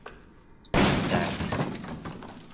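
A single sharp gunshot from a pistol in the video game Resident Evil 7 bursts out after quiet ambience, loud and crackling, then trails off in a decaying, glassy-sounding tail.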